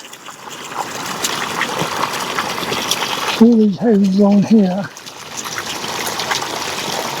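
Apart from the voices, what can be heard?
water draining out of a property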